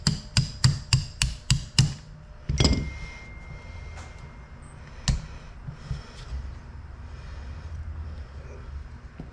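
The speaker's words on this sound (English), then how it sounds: "Get my punch, my hammer, take this pin out." Hammer striking a punch to drive out a pin on a Springfield 1911 A1 pistol: a quick run of seven sharp metallic taps, then a louder knock and a few scattered clinks, close up and with no talking.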